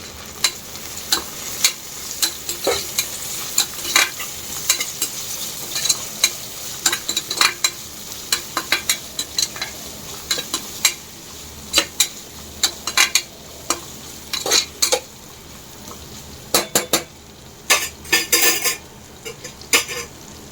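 Mint leaves fry in a pan alongside ginger garlic paste for coconut rice, with a soft continuous sizzle broken by frequent sharp scrapes and clinks of a spoon stirring against the pan.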